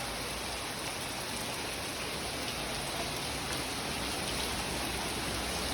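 Heavy rain pours down steadily, a dense, continuous hiss of drops drumming on surfaces with no pauses or voices.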